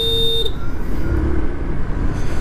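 A single short, high electric horn beep from a Hero Destini 125 scooter sounds at the start, close and loud, followed by low engine idle.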